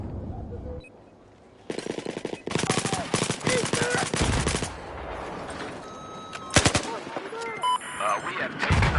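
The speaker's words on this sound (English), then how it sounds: "I've never used this little nail gun." Rapid bursts of nail gun fire in Battlefield 4, loud clattering volleys that start and stop in quick succession, with a few sharp single shots near the end.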